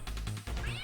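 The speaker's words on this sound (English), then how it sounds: "Get that kitty cat." A single short cat meow, a sound effect from the video game The Misadventures of Tron Bonne, rings out clearly with a brief crash-like accent in the background.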